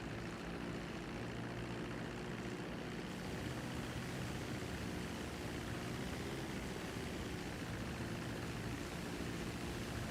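A propeller airplane engine drones in a video game such as FiveM or Star Citizen, a loud, steady, unbroken hum with a dense low rumble that holds evenly throughout, with no talk over it.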